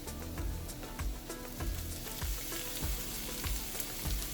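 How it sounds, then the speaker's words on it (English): Shiitake mushrooms fry in oil with Sichuan chili powder, giving a steady close sizzle and crackle, with occasional scraping stirs from a utensil. "Fry until the mushrooms get some color on them."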